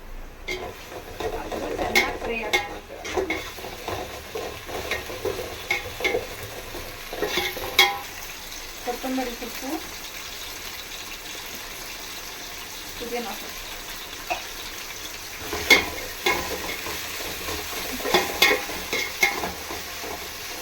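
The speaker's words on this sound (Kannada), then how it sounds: "ಶುಂಠಿ ಬೆಳ್ಳುಳ್ಳಿ ಪೇಸ್ಟ್ ಹಾಕಿದ್ದೀನಿ ಎರಡು ಸ್ಪೂನು" Ginger garlic paste fries in a pan for egg biryani, with steady sizzling and repeated scraping stirs of a spoon against the pan, fairly close, while a voice talks intermittently over it.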